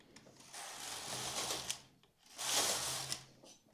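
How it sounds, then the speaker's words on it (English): A double bed knitting machine carriage makes two passes across the needles, each a rattling mechanical sweep of a second or more with a short pause between, fairly quiet and close. "And we'll knit 2 rows."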